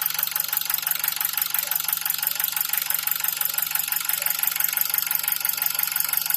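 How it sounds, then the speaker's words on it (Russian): Steady fast ticking chatter from the gas injectors of a running Nissan QG18DE engine, continuous and close throughout with a constant mechanical rhythm, no talking. "Еще раз напоминаю, что стрекот идет из-за газовых форсунок."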